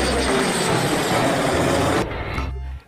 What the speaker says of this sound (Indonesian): ternyata yang ini pesawat tempur